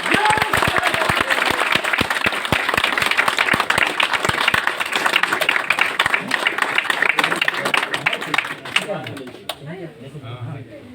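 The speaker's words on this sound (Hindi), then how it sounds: "जोरदार तालियों के साथ।" A company event audience applauds loudly and continuously for about nine seconds, dense crisp clapping throughout, then it breaks off into a softer tail with some voices.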